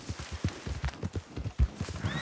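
Rhythmic, close hoofbeats of wild horses in Red Dead Redemption 2, clopping over the ground in an uneven gallop, with a faint whinny near the end.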